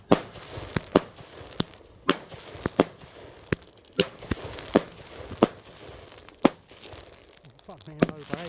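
Bonfire Night fireworks go off in a rapid series of sharp, loud cracks and bangs at irregular intervals, with a voice briefly heard near the end.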